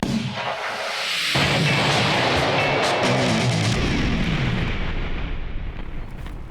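Large homemade cannon fired in a back garden, giving a loud explosive boom that rolls on with a long decaying rumble, alone without voices.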